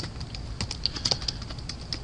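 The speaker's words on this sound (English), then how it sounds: "we're going to start typing out our code" PHP code is typed on a computer keyboard in a quick, uneven run of close, crisp key clicks with no voice.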